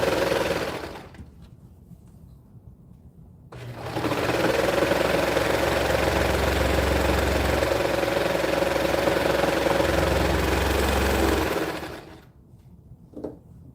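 A sewing machine stitching leggings runs in one steady, loud burst of about eight seconds, a fast mechanical hum that starts and stops abruptly between quieter stretches of room noise.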